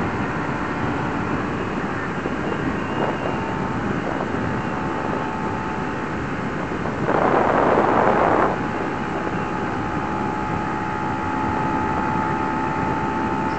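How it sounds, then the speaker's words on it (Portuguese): A Kawasaki Ninja 300 motorcycle runs steadily at speed with a continuous, wind-buffeted engine drone that stays fairly loud throughout, swelling briefly in the middle. "Motoquinha aqui, eu tô gostando cada dia mais e mais da moto também."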